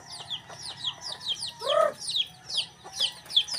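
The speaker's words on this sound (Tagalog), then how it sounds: "Ayan pa yung mga manok" Several native backyard chickens cluck and chirp in quick, overlapping calls nearby, with one louder squawk in the middle over a low background hum.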